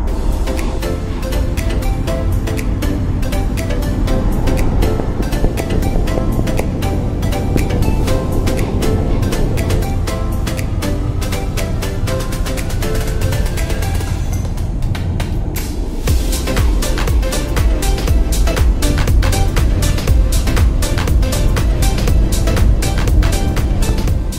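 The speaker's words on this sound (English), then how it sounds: "engine has just kicked in in safe mode" A Mitsubishi Outlander PHEV cruises on the highway with its engine running in hybrid mode, giving a constant loud cabin roar of road and engine noise that shifts slightly partway through, with no talking.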